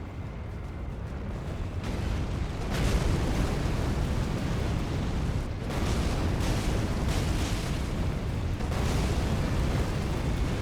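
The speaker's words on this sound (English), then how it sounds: "because the Krakatoa explosion can clip through walls a bit" A Krakatoa explosion spell in the video game Elden Ring erupts as a dense, roaring blast that swells and sustains loudly for several seconds with repeated bursts layered on top.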